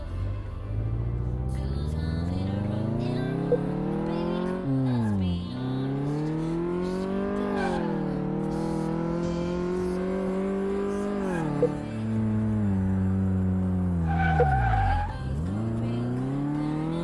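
A car in Car Mechanic Simulator 2018 drives laps on a test track, its engine revving up and down steadily through the gears, with repeated drops and climbs in pitch and bursts of tyre squeal, loud and close throughout.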